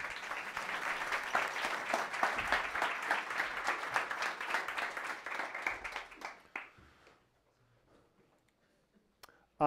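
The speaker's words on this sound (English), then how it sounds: "Let's give them all a round of applause." Audience applause at a hackathon meetup on sound and music, loud steady clapping for about six seconds that thins out and fades into near silence.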